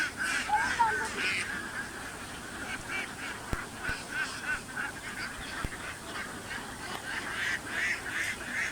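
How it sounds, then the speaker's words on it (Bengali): Domestic ducks feeding on grass and fodder, repeated nasal quacks and honking calls in short bursts over a steady outdoor background, with a few sharp knocks, no talk. "আসে ঘাস খেয়ে ফেলতেছে।"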